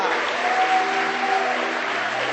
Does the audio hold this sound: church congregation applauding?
yes